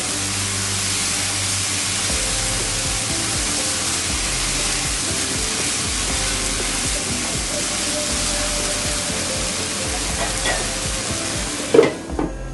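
Farm chicken sizzles in a hot pan after being sautéed with spices, a loud, steady frying hiss that continues throughout, with a few clattering stirs near the end.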